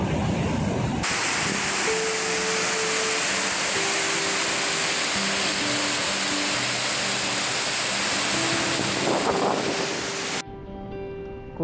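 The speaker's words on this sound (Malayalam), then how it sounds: "പച്ച പുതച്ച് കിടക്കുന്ന മലകൾക്കിടയിലൂടെ ഒഴുകുന്ന കോഴിപ്പാറ വെള്ളച്ചാട്ടം" Kozhippara waterfall pouring between green hills, a loud, steady broadband rush of falling water that fills the whole stretch without pause, with faint tonal hums running underneath and no voices.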